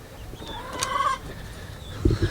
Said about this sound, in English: I moved the small chicks in with the bigger chicks